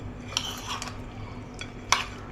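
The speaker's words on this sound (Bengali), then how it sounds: "লেবুর রসটা দিয়ে খুব ভালো করে এখন আবার মিশিয়ে নিচ্ছি" Fruit mash for a mixed-fruit bhorta stirred by hand with lemon juice in a bowl, giving a few soft, quick scraping clicks over a quiet background, with no speech.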